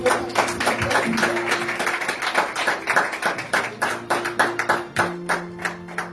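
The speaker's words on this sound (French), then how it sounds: "Applaudissons très très fort pour la prophétesse." A congregation at a Sunday church service claps hard in a steady rhythm, starting as scattered applause and settling into distinct, evenly spaced beats, with music faintly underneath.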